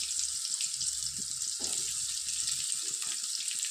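Oil sizzles steadily in a pan holding cooked greens and onions, a bright constant hiss with soft, irregular low knocks and shuffles from stirring beneath it, and no talking.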